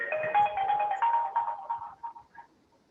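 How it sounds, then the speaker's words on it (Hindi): A phone ringtone plays for an incoming call, a bright repeating melodic pattern that gradually fades and stops after a few seconds. "यार ये चिराग का फोन पे फोन किया जा रहा है"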